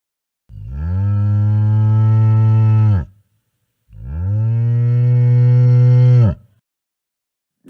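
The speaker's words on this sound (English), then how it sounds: "Look, it is a cow." Two long, loud cow moos on a farm, each lasting about two and a half seconds with a rich, droning tone, separated by a short pause, close by and with no talking.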